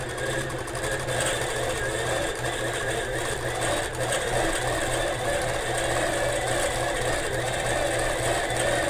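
A sewing machine free-motion quilting pebble shapes on a quilt top, running as a steady, fast mechanical hum with even stitching pulses throughout, close and unbroken.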